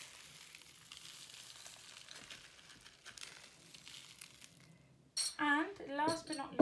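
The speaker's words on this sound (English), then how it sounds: "I am going to put all of my leftover sequins from the sequin mix all around" Leftover sequins from a sequin mix sprinkled around on a birthday card, faint crinkly pattering and light clinks, followed by someone talking.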